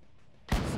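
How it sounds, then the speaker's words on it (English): A single heavy artillery blast in a WW2 Arma 3 German campaign, a sudden loud boom after a quiet lead-in, with a rumbling tail. "Artillery fire mission."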